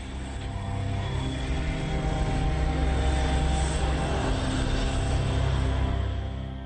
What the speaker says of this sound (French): Le vol 195 de British Airways atterrit à l'aéroport international George Bush.